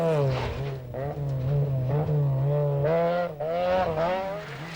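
Vauxhall Astra rally car at a 1990 British Rally Championship stage, driving through marker tapes, its engine revving hard and rising and falling in pitch throughout, loud and continuous as it powers along.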